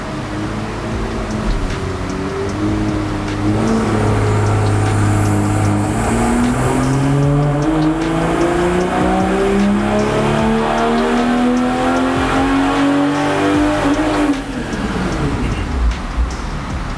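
A BMW M340i with an AWE exhaust revs on a dyno, one sustained loud pull with the engine note climbing steadily in pitch for about ten seconds, then dropping off as it winds down.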